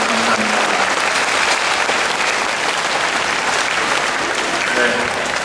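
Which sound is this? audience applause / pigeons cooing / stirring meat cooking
audience applause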